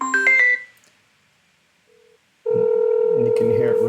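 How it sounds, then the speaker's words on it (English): A phone call goes out on speakerphone: quick dial tones at the start, a short pause with a faint beep, then a loud, steady ringback tone that holds to the end. "you'll hear a ringing sound like we're calling them"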